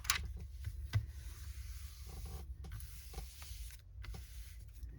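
A laminator draws a plastic sheet through for a patchwork journal cover, making a faint, low, steady motor hum with a few small clicks and no talking.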